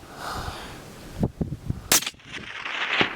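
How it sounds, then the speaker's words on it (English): Rifle shot at a bull tahr in mountain hunting country, a single sharp loud crack cutting through light outdoor ambience, preceded by a few soft thumps and followed by faint rustling. "Beautiful shooting, Kelly."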